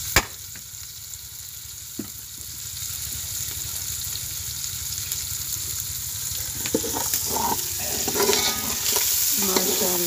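Onion and green chili frying in ghee make a busy crackling sizzle that builds louder toward the end, with scraping stirs and clinks of a utensil against the pan nearby, and no voices.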